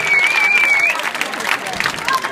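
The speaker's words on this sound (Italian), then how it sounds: "Io farei un applauso a questa donna" Audience applause at a gathering in Mamoiada, Sardinia, a loud crowd clapping steadily with a whistle and voices rising over it.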